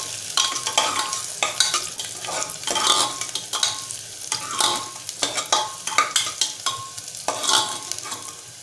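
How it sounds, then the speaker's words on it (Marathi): Finely chopped medium onion sautés in tempering oil while a spoon stirs it, making a continuous sizzle broken by regular scraping and clattering strokes against the pan, close and clear. "मीडियम आकाराचा कांदा बारीक चिरून घेतलाय, तो घालूया फोडणीला। परतवून घेऊया।"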